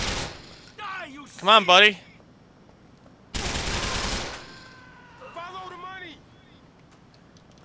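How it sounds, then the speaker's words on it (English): A shootout in Grand Theft Auto 4 gives a long, dense rattling burst of automatic gunfire, with earlier short noisy bursts and a siren-like wail in between, as someone speaks briefly. "This is probably the biggest shootout we've had."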